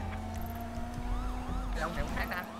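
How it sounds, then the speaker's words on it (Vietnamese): Police siren in the video game GTA 5, a steady wailing tone with rising and falling sweeps growing busier toward the end, heard over a constant low engine drone without any talk. "xe cảnh sát xe cảnh sát"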